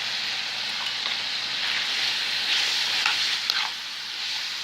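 Macaroni and cheese with onion powder being stirred in a pot, a steady wet scraping and sizzling texture that runs continuously at moderate loudness with no voices.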